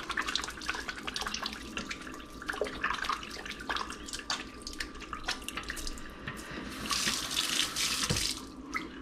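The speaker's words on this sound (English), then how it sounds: "Do a quick wash of the hands." Water runs from a sink tap while hands are washed with soap, with splashing and dripping that swell and change as the hands move under the stream, close by and without talk.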